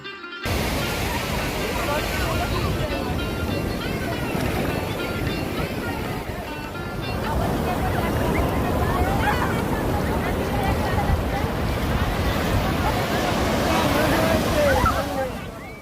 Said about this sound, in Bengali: পুরী সমুদ্র সৈকত হল ভারতের বৃহত্তম সমুদ্র সৈকত এটি বঙ্গোপসাগরের তীরে অবস্থিত